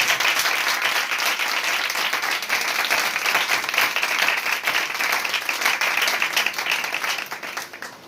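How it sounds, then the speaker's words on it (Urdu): Loud, dense applause from a congregation honoring a church choir and its leader during a sermon gathering, sustained and steady for several seconds before tapering off at the end, with no voices over it. "ان کے لیے اور ان کے ساتھ جو ساری کوائر کے لوگ ہیں ان کے لیے بھی ایک دفعہ زوردار تالی"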